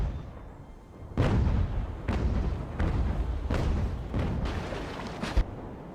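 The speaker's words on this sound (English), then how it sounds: "We'll aim some grape shot and try and kill some crew." Sailing-warship cannons fire grape shot in the naval battle game Ultimate Admiral: Age of Sail, a series of five or six heavy booms spaced about a second apart over a low rumbling battle ambience, moderately loud and a little distant.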